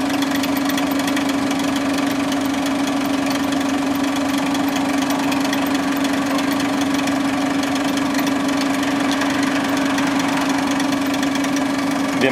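An AMAT city bus stands with its engine running on Via Orsini in Taranto, heard from about two metres away: a loud, constant diesel idle with a steady hum and knocking rumble throughout.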